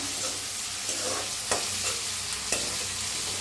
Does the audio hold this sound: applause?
no